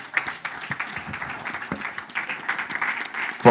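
Audience applause for panelists at a summit, a steady burst of many hands clapping throughout, fairly close and sustained without pause.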